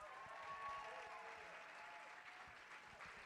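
Sustained audience applause at a large event before the State of the Union address, steady crowd clapping heard from some distance with faint voices mixed in.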